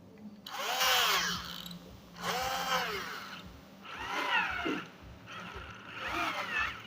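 A cordless drill with a freshly repaired planetary gearbox runs in four separate bursts, each winding up and whining for about a second before stopping, close and loud in a quiet room.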